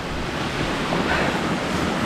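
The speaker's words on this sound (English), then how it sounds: "I can hear the water dropping." Steady roar of rushing water, loud and continuous, with broad hiss and low rumble from a limestone waterfall in Trinidad pouring nearby; no voices.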